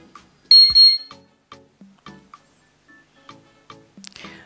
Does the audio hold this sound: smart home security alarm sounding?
yes